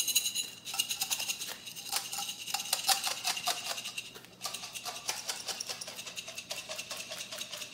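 Aroma beads shaken inside a lidded jar make a dense, rhythmic rattle of bright ticking clicks in repeated bursts, close and fairly loud, with no talking.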